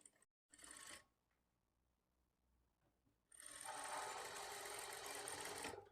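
A sewing machine stitches the belt of a lining blouse at a quarter-inch margin: a short burst of close stitching, a pause with faint handling, then a longer, steady run of rapid stitching.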